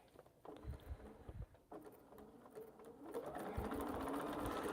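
A domestic sewing machine, stiff on the hand wheel, starts in short bursts and then settles into a steady, fast mechanical chatter, quiet and close.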